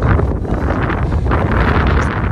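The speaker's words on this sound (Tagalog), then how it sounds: "Ay, sobrang hangin." Strong wind on Mount Titlis, Switzerland, roars and buffets the microphone continuously, a loud, unbroken rush with no other sounds standing out.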